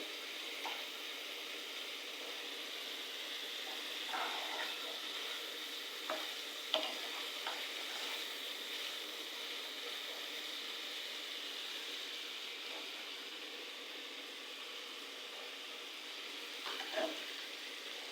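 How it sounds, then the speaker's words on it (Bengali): Chicken curry fries gently in a pan over medium-low heat, giving a low continuous sizzle with occasional soft scrapes and clicks of a stirring spoon. "তরকারিটা আমি আলতো করে আস্তে আস্তে মিডিয়াম লো আঁচের মধ্যে রেখে ভেজে নিচ্ছি।"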